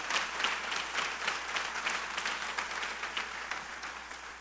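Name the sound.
applause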